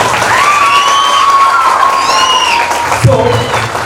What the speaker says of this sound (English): So give a big round of applause for that.